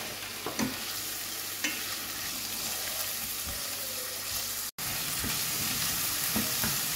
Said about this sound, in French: Et on fait revenir.